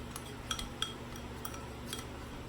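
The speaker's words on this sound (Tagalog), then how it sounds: "haluin mo lang ng mabuti" A utensil clinks lightly against a bowl while stirring a homemade coconut oil deodorant mixture, a few faint taps over a low steady background hum; nobody talks.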